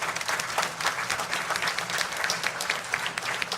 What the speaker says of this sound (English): So you have to really give a big round of applause to all these